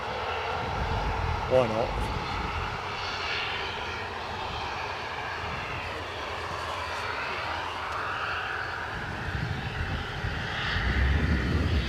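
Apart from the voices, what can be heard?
ATR turboprop aircraft at Edinburgh airport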